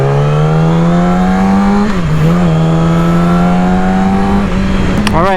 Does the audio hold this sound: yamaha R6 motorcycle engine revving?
yes